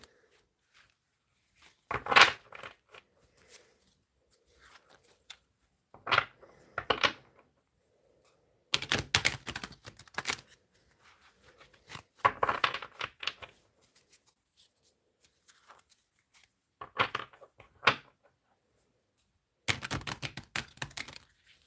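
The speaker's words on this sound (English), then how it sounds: "Let's have a shuffle" Cards riffle and flutter in short, crisp bursts separated by quiet pauses, repeated several times up close.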